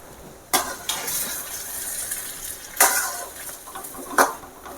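Rava kesari stirred in a pan with ghee poured over it: soft continuous scraping, with a few sharper knocks of the spoon against the pan.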